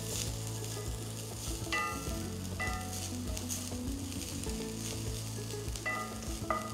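Ingredients for varutharacha kadala curry fry in a pan with a steady, close sizzle and occasional scrapes of stirring, with no voices.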